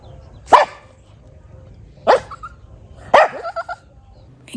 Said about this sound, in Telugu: ఆ ఫీమేల్ డాగ్. దానికోసం అన్ని ఫైటింగ్